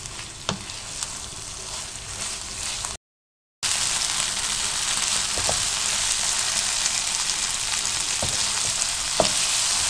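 Beef boti pieces fry in a pan with a steady, close sizzle, broken by a few sharp stirring clicks and a brief cut-out near the start.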